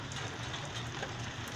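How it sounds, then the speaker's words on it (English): Steady rain falls outdoors at sunrise, an even, dense hiss of drops on surfaces with no pauses and no voices. "it is raining."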